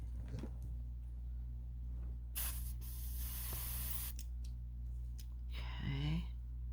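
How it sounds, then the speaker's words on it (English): A sprayer gives a single sharp hiss of about a second and a half as it sprays alcohol ink onto a painted hummingbird, over a steady low hum, with a faint voice at the end. "And see what my sprayer will do."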